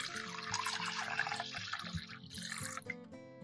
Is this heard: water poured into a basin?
yes